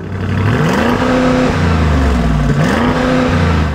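A 2024 Audi SQ7 SUV with a twin-turbo petrol V8 revs hard and loud up close, its engine note rising and falling in a steady, continuous roar.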